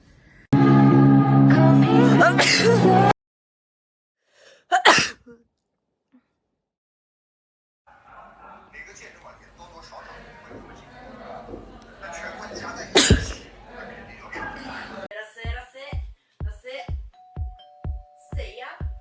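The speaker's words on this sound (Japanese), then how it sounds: "我居然在要打喷嚏的一瞬间打开摄像头，居然来得及！" A woman's sneeze caught on camera after she held it back, sounding as a sharp, close burst followed by quieter breathy noises, sniffles and a few short clicks.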